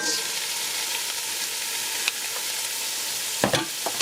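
Garlic and sausage sautéing in a hot pan for pancit bihon, a dense continuous sizzle with a few sharp clatters and spoon stirs toward the end.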